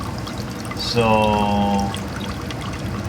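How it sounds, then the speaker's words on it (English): Air conditioner condensate water pours steadily into a reservoir on a balcony, a continuous trickling stream with a brief tonal swell in the middle, while a voice speaks briefly over it. "The water is going straight into the reservoir, and that's all aircon water."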